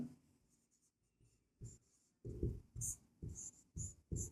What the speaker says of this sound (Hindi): तो हम लिखेंगे आता